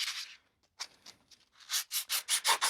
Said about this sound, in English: Actually, I might give it a light sand, just in case there's any little defects in there